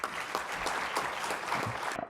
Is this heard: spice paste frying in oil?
no